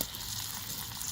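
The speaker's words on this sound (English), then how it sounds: "you can hear there is a sizzle going on" Chicken sizzles in a cast iron pan used as a skillet over a campfire, a steady crackling hiss with no pauses, fairly faint and heard alone without talk.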